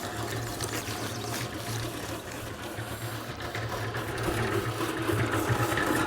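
A mortar mixer drum turning with masonry cement, a steady droning mechanical hum with a low rumbling churn that swells slightly toward the end, no speech.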